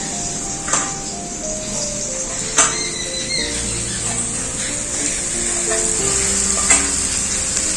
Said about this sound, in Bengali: সোয়াবিনগুলো হালকা করে ভেজে নিলাম